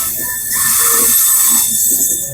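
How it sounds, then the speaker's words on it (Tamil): A train rolls through a railway junction with a loud, close, continuous rumble, while high metallic wheel squeal swells and fades over a couple of seconds. "இப்போ தான் ஒரு ரயில் போயிருக்கு நினைக்கிறேன்"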